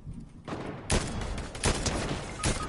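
Sniper fire in the video game Fortnite: sharp, loud shots cracking out amid bursts of gunfire, several sudden blasts standing out over a short, busy exchange.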